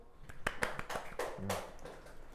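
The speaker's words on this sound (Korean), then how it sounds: "자, 지민한테 박수" A classroom of students gives a quick, sparse round of applause for a classmate, with a few scattered, faint claps that soon die away.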